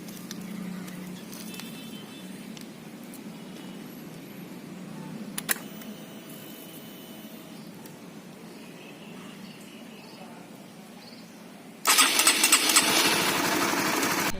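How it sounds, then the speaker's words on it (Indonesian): Honda CB150R motorcycle engine running after an electric start and warming up, a steady low idle hum throughout, with a louder rushing burst near the end. "Nah, sekarang aku pakai starter."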